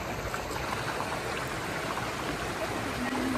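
A river stream flowing, a steady broadband rush of water that stays even and continuous from start to finish.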